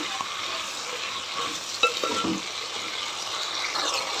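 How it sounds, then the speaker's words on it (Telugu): Drumstick vegetable pieces frying and being stirred in a pan for sambar, a close bright sizzle with a few scraping stirs and one sharp utensil clink, no talk. "ఇప్పుడు ఇంకొంచెంసేపు ఇట్లా వేగనిద్దాము"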